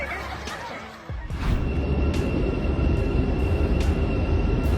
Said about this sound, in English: a passenger train passed through the station at the exact moment the Hogwarts Express appeared